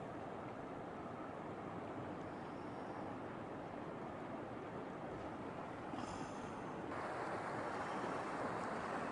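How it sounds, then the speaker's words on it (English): Floodwater rushing out through a drainage channel after hail and high water, a steady broad roar of flowing water with some wind buffeting, continuous and moderately near, no talk. "it's really moving a lot of water out of there right now"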